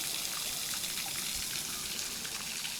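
A small waterfall trickles beside a coastal walking path near Manly in Sydney, giving a steady, close splashing wash with no pauses throughout.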